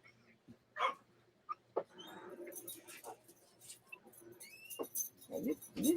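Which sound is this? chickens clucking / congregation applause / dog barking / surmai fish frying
dog barking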